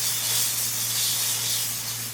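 Milk for a Bengali steamed yogurt sweet hits a hot pan and hisses loudly, a bright, steady sizzle that holds for a couple of seconds and eases slightly at the end.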